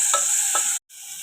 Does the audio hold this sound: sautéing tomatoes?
yes